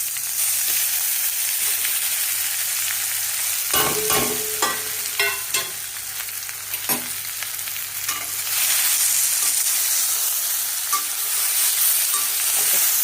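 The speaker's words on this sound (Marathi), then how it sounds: "हे भरलेली भेंडी इकडे घालायची." Stuffed okra (bhindi) frying in oil with mustard seeds, asafoetida and curry leaves in a pan, giving a loud, steady sizzle throughout with a cluster of spatula scrapes and stirring clacks partway through.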